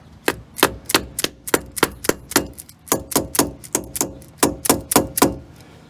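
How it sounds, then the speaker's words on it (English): A rubber hammer tapping a seal into the hub of a 2014-2020 GMC/Chevrolet 4x4 truck during a front brake job, a quick series of close, sharp knocks in an uneven rhythm, roughly two or three per second, with no talk. "tap it in with a rubber hammer"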